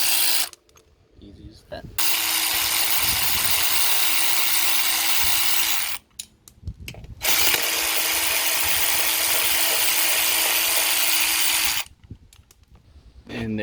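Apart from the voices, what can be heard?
ratchet removing 12mm bolts from 1986 Kawasaki Vulcan fender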